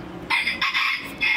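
Chickens at Bakhchisaray Zoo in Crimea let out three quick, close, squawking clucks in a row, loud and harsh, with no talking.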